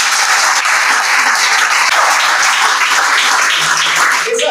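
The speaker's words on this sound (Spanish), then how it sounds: "Fuerte el aplauso al Señor" A church congregation breaks into loud, sustained applause honoring the Lord during a class on deacons, a dense wash of clapping held steady for several seconds before tapering at the very end.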